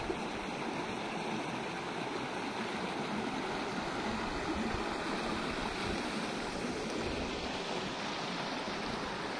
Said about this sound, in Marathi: पाणी एकदम सुंदर वाहत आहे,